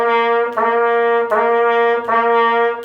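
A trumpet plays three sustained, tongued notes in steady rhythm, each with a crisp attack, alone and close.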